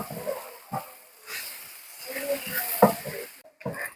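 Squid stirred and frying in a pan, a soft sizzle and hiss with scraping stir strokes, intermittent and moderately close, mixed with a person talking.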